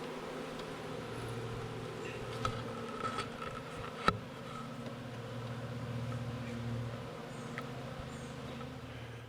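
Bees from open beehives buzzing as a steady, close hum with a few brief sharper clicks, no voices.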